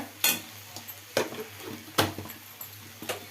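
A spoon stirs okra curry cooked with jaggery in a pan after salt goes in, making four or five distinct scraping clanks over a faint background sizzle, near and fairly loud.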